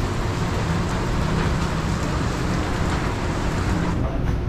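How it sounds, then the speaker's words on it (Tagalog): Heavy rain pours down suddenly in Taguig, a loud, dense, unbroken roar of water beating on surfaces that holds steady from start to finish. "Lakas ng ulan guys. Biglang bumuhos yung ulan."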